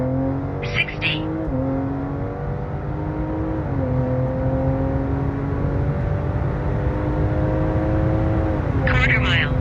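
A Stage 2 tuned 2024 BMW 540i LCI accelerates hard through its gears from inside the cabin, the engine tone climbing steadily and dropping briefly at each upshift, with short bursts of excited voices at the start and end.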